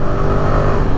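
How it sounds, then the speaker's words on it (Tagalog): A car engine revs hard under acceleration while overtaking on a road toward Tagaytay, a loud, steady, close drone with no talk over it. "Kaya mahiyaw yung makina nyo."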